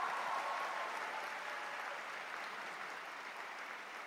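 The audience at a university debate grand final in Malaysia applauds, a steady, even patter of many hands that sounds fairly distant and slowly fades a little over a few seconds.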